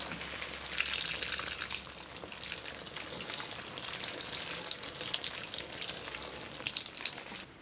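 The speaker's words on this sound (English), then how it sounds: "Now I'm going to go get my watering can, and we're going to water this thing in good" A watering can pours water onto a newly planted pineapple top in a greenhouse, making a steady, hissing splash that runs continuously at moderate volume with no voices.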